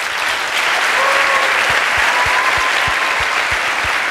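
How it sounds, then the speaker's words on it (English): A crowd claps steadily, a dense wash of many hands applauding together, fairly loud and sustained throughout. "Big round of applause for these guys."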